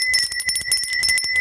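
A bright, rapidly trilled bell rings continuously, like a bicycle bell, with a steady metallic shimmer and quick repeated strikes throughout, loud and alone.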